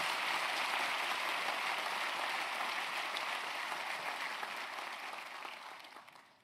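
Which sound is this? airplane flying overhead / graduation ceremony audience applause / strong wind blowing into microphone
graduation ceremony audience applause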